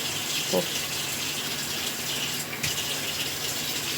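Water pours steadily into a grinder jar of dry-ground mustard seed and seven dried green chillies for paste, a continuous soft gush close by lasting the whole few seconds.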